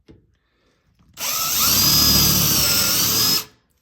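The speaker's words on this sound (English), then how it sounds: "We got a 1/4 inch drill bit." A power drill with a 1/4 inch bit drills through metal on a Weber Smokey Joe grill, backed by a block of wood. After a moment of quiet, a loud, steady high whine runs for about two seconds and then stops abruptly.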